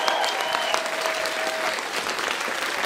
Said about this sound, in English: Big round of applause for Angie.